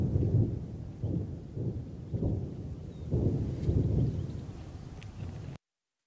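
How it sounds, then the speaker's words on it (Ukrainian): Grad multiple rocket launchers firing near Mariupol, heard from a distance as a series of dull, rumbling booms about one every second, low and muffled against wind noise, ending abruptly. "дуже прошу послухати, як стріляють гради."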